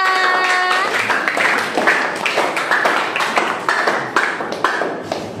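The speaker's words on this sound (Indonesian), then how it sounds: "tepuk tangan" Children in a classroom clap together, a loud run of sharp, roughly rhythmic claps close by, preceded by a brief electronic chime tone at the start.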